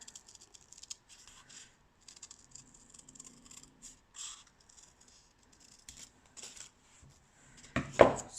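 Scissors snip in short, quiet bursts of crisp cuts through paper, with pauses between, ending in a louder rustle.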